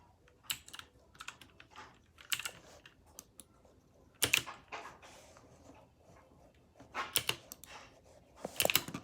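Rapid keyboard typing and key clacks during a warfare video game session, coming in bursts of quick taps with short pauses, close and fairly loud.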